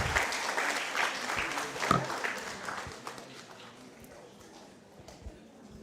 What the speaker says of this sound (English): let us please give a round of applause for everyone that took part today.